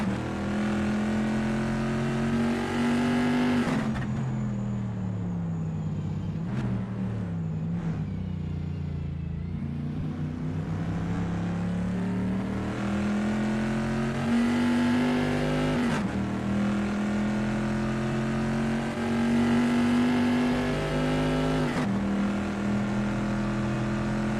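Vintage pre-1973 race cars at Imola scream through the Piratella corner, engines rising and falling as each downshifts and accelerates away, loud and close with a brief lull before another car roars past.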